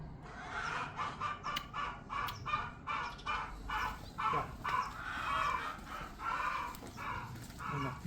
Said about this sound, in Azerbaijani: Bax, burada şey toyuqlar var. Çoxlu.